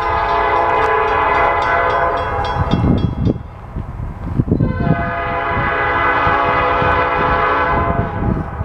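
A Norfolk Southern northbound mixed freight train rolls past close by in Marion, Ohio, with a steady loud rumble of railcars and repeated blasts of its horn sounding over the passing train.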